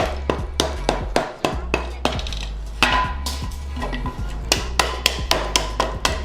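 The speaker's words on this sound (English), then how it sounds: "now we're just gonna take a quick little hammer." A small hammer knocks out wooden lap-joint cuts on a kids' picnic table build, delivering a quick irregular series of sharp, close, woody taps and thwacks with brief pauses between bursts.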